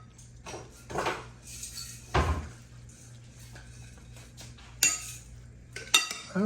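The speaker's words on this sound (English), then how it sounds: "so let's mix it up a little bit" Seaweed salad with vegetables is being tossed and stirred in a bowl, making soft wet stirring sounds with a few sharp utensil clinks and knocks scattered through. The sounds are close and fairly quiet, with no talking.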